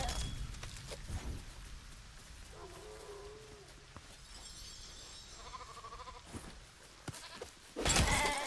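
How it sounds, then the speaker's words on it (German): Sheep bleat in the Lego Fortnite video game: two short wavering bleats stand out clearly against a soft ambient background, with a brief louder burst of noise at the end. "Braves Schaf."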